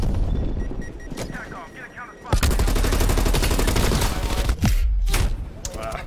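Rapid automatic gunfire rattles in bursts in Call of Duty Black Ops Cold War multiplayer, loud and close with a sharp blast partway through, while a player talks over the shooting.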